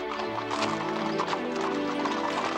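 Horses' hooves clip-clop steadily while riders travel, an even rhythmic clatter that stays fairly loud throughout, with a faint whinny and music-like tones mixed in.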